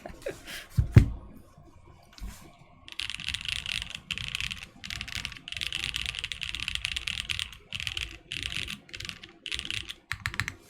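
Close typing on a Lin Whale VKG Korean custom mechanical keyboard with SP Star Marble Soda keycaps on a half-POM build: steady bursts of keystrokes with brief pauses, after a quiet opening with a single thump.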